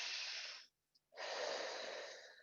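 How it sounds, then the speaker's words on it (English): Two long, deep breaths during a barre stretch, each a soft, airy sound close by with a brief quiet pause between them, and no talking. "2 more long breaths here."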